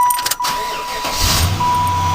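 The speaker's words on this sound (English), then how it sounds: "Starts slow, but it starts." A car engine with a suspected failing alternator cranks sluggishly and then catches, settling into a steady low idle that carries on to the end.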